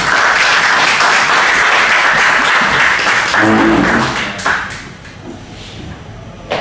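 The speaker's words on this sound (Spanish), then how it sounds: "Sin más, solicito una pequeña ovación para nuestra presentación." An audience applauds a speaker at a talk on democratic deliberation, a loud, dense, steady wash of clapping that fades toward the end.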